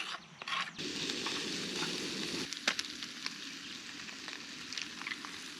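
Onion frying in a pan over a camp stove at a riverside kayak campsite for ham and eggs, a close steady sizzle throughout with a few brief clicks and stirs, no talk.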